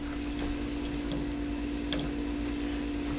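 Onions sweating in butter in a pot for a cream of broccoli soup: a soft, continuous sizzle with faint crackles over a steady hum, quiet and close, with no talk.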